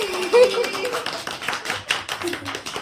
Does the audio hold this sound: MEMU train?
no